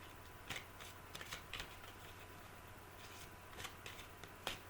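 Tarot cards being shuffled and drawn for a reading, giving a few soft, quick riffling flicks and snaps spaced irregularly over quiet background hiss.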